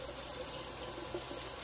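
Water runs steadily from a tap into a sink while pig feet are washed, a constant close splashing flow with no voices.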